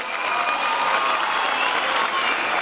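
Dense, steady applause from a crowd at a political rally and opening event in Bağcılar, Istanbul, continuous and fairly loud throughout with no voices standing out.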